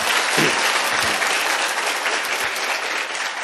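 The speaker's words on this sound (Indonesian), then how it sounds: "Tepuk tangan dulu buat Anda deh" Audience applause at an Indonesian direct-selling business seminar, a steady, dense wash of clapping from a sizeable crowd that holds loud and even throughout.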